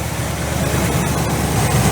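A C30 car engine idles at about 1,050 rpm with a steady, low rumble, loud and close, holding an even pace without revving.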